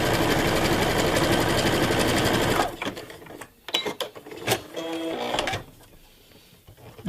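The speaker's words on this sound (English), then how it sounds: "I'm just gonna sew through without anything else, without any folding." A sewing machine sews a narrow edging stitch in one loud, steady run of about two and a half seconds, close by, followed by clicks and mechanical handling sounds.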